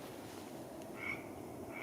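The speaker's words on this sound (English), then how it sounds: "The only frog to make a ribbit sound." A Pacific tree frog gives a ribbit call at a pond, two short raspy croaks spaced apart over a faint background hush, close and fairly quiet with no talking.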